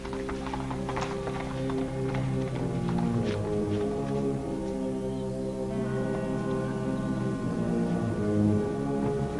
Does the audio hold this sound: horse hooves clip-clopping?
yes